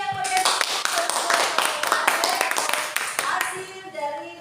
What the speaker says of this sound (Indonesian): Iya, tepuk tangan yang meriah.